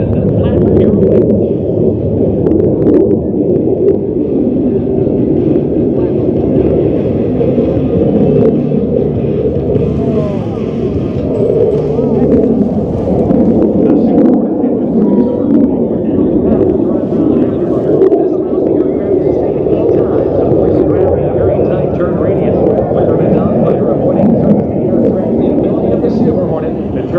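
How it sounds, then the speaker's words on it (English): An aircraft flies a flat, rotating aerobatic maneuver at the Aviation Nation airshow in Las Vegas, a steady, broad engine rumble under continuous announcer commentary. "The aircraft rotates every 180 degrees with a nearly flat attitude. This maneuver named the flat aerobatic."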